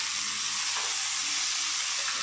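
Jackfruit dropped into frying masala and stirred, giving a loud, dense, continuous sizzle with a faint shift as the pieces go in.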